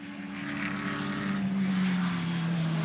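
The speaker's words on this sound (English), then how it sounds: "this car runs a Chev-based engine. It sounds the part." A steady, loud race car engine roar from a Chevrolet-based engine, with a droning low tone that slowly shifts in pitch, like a car passing at speed, at Winton Motor Raceway during an Australian GT Championship race.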